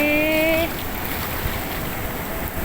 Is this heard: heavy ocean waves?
yes